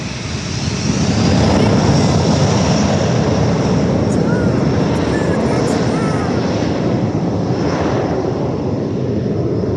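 A JetBlue airliner passes over San Diego airport, its broad engine roar loud and sustained across the whole stretch, with people talking over it.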